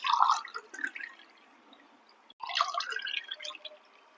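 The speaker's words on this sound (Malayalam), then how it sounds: "അപ്പോൾ 6 ഗ്ലാസ് വെള്ളം ഒഴിച്ചിട്ടുണ്ട് കുക്കറിലേക്ക്" Water is poured from a glass into a pressure cooker while cooking mackerel (ayala) biryani, giving splashy trickling bursts in two pours separated by a short pause, close and fairly quiet.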